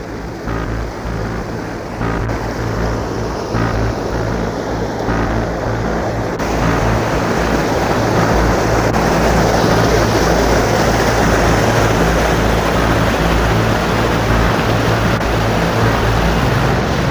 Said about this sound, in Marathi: तो खूप मोठा धबधबा आहे एकदम मस्त आहे असं पाणी धबधब्यानं असं व्हायलंय की मला आवाज येतोय